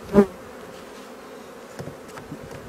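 Honeybees drone at an opened beehive in a continuous close hum, with one louder bump near the start and a few faint knocks later.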